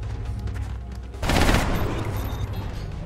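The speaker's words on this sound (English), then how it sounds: "Right, let's have Fativan shoot it." A burst of gunfire from a soldier in the tactical strategy game XCOM: Enemy Unknown, a sudden loud broadband blast at about a second in that rolls into a sustained rattling barrage before easing off, with no talk.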